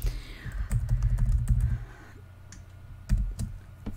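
Quick bursts of typing on a computer keyboard, close and clicky, come in a rapid run, pause briefly, then resume with a few more keystrokes.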